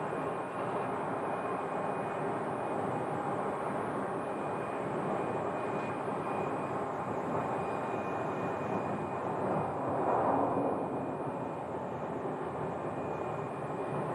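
An Airbus airliner taxiing at Phoenix Sky Harbor airport, a steady distant jet engine whine and rumble that holds level throughout and briefly swells a little louder near the end.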